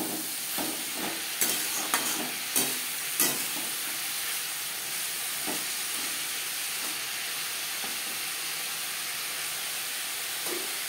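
Bitter gourd (kakrol) with salt and turmeric being stirred in a hot pan, a steady sizzle and hiss with several sharp spatula scrapes and knocks early on, close and moderately loud, no talking.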